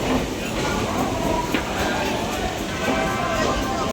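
A Namkhana local train stands at a busy Sealdah station platform, giving off a loud, steady rumble and hum with faint clanks, while platform chatter murmurs in the background before the sound cuts off abruptly.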